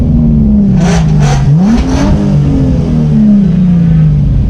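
A V6 car engine idles loudly nearby, then blips through several sharp revs in quick succession, the pitch rising and falling with each throttle stab.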